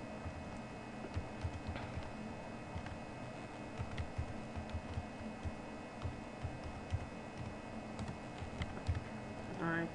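Soft typing of an email address on a computer keyboard, faint scattered key taps under a steady hiss of background noise, with no one speaking.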